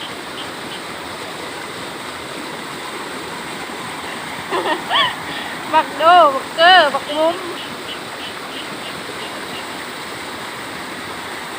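Steady rushing water flows continuously during heavy, hours-long rain, while someone talks briefly midway.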